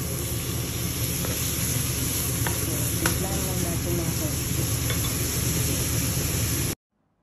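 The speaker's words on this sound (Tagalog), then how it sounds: "tapos na akong magluto ng macaroni pasta" Macaroni pasta cooking in a pan for carbonara, a steady loud sizzle with faint stirring scrapes and a few light clicks, continuous until it cuts off abruptly near the end.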